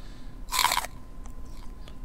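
The hole in the Void.io game swallows objects with a single short, crunchy bite-like effect, followed by faint scattered clicks.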